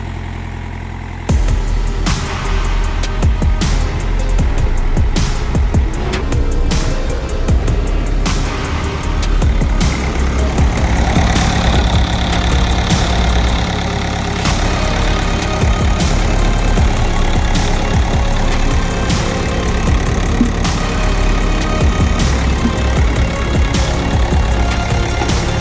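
An overhauled BOMAG RTK 455 road roller engine runs and idles outdoors, a loud, steady mechanical rumble with a rhythmic knock and clatter that continues without a break and no talking.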